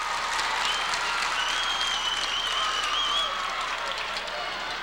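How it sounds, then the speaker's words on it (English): Trinity fans at a high school state championship football game clap and cheer, steady applause with a whistle-like tone riding over the crowd noise from the stands. "And the Trinity fans are cheering."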